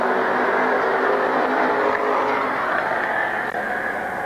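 Street stock race cars racing at Midvale Speedway, a continuous dense engine roar from several cars running together at a distance, steady and loud with no talking.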